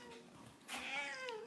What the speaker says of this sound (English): I'm just going to have to eject my cat because she's being very annoying.